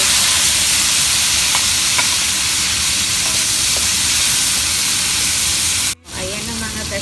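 Ginger, tomato and onion sauté in a hot pan for ginataang gulay with mushrooms, a loud, steady, close sizzle broken by a brief pause and a fresh hiss near the end.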